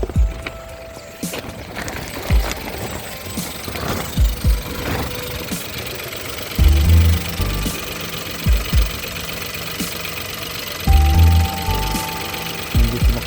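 A Honda Civic wet-belt engine runs with a rattle, giving a rough, knocking idle with irregular clunks and periodic surges of low, throbbing revving, all heard up close.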